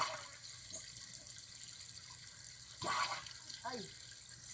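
Tap water runs and splashes into a ducks' pool on a farm as a soft, continuous trickle, with a few louder gushes, under a person talking.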